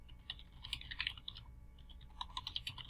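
Fingers type a message on a computer keyboard in quick, irregular bursts of close key clicks with a short pause midway.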